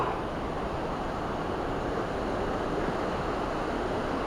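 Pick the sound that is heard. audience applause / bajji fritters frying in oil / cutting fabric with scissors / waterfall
waterfall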